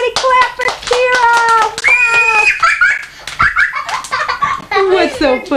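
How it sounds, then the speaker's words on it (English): Family members clap and laugh at a child's third birthday party just after the candles are blown out, scattered close hand claps mixed with loud overlapping voices, giggles and a child's chatter. "everybody clap for Kyra"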